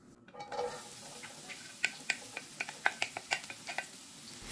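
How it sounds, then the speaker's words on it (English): Onions dropped into hot oil in a pot, with a steady hiss of frying under a series of sharp metallic taps and stirring clinks, close and moderately loud, with no talking. "Once your oil is nice and hot, add in your onions."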